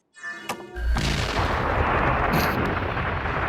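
A gunshot in the Frieren anime, a sharp crack that swells into a heavy booming blast with a long rumbling roar sustained afterward, loud and close with no talking.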